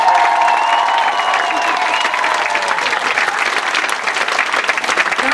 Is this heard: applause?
yes